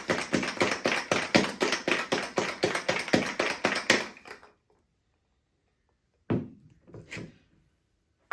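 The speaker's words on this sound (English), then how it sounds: "We're going to add an ice cube. Pop the top on that. And we are going to give it a good shake." A cocktail shaker holding a Brown Derby with ice is shaken hard in a fast, steady rhythm for about four seconds, then falls silent, followed by a few separate knocks and clinks near the end.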